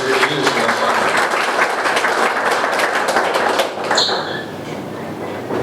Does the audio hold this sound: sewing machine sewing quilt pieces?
no